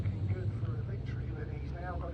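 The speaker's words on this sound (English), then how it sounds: "Here we go then, the revs begin to rise." Racing truck engines at Pembrey in the British Truck Racing Championship rev and rumble as a low steady drone beneath loud commentary, building ahead of a restart.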